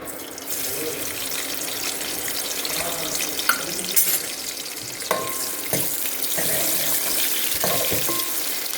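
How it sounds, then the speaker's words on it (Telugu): Marinated chicken pieces dropped into hot oil for biryani, a continuous bright sizzle with crackling pops and occasional clatters of a utensil, loud and close throughout. "మ్యారినేషన్ అయిన చికెన్ పీసెస్ కొద్దిగా ఆయిల్ ఫ్రైలాగా చేసుకోవడానికి వేస్తున్నానండి"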